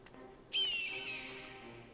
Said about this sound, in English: Loud fucking bird.